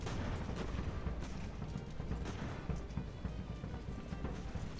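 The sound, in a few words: enemy artillery fire in Ultimate Admiral: Age of Sail video game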